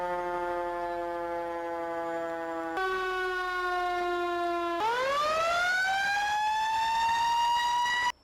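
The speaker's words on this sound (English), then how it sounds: "this does have a siren built in, so I can turn on the lights with home, and then you click N to turn on the siren" A fire truck siren in the Farming Simulator 2019 video game sounds loud and alone. Steady electronic tones jump between pitches, then settle into a rising wail that holds until it cuts off abruptly.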